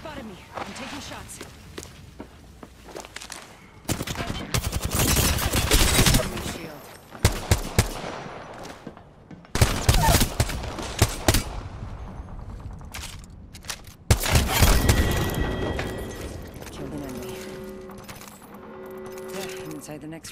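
Automatic gunfire in Apex Legends played as Wraith, with bursts of rapid shots crackling in several loud clusters, mingled with mechanical clicks and footsteps; a voice talks over parts of the action.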